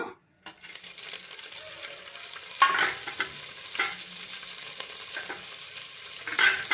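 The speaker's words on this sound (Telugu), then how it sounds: "ఇప్పుడు మళ్ళీ ఇదే పాత్రలో కాస్త ఆయిల్ వేసుకుని చింత చిగురు వేస్తున్నాను" Tender tamarind leaves fry in a little oil in a pan, giving a soft, steady sizzle broken by occasional stirring scrapes and clinks of a spoon against the pan.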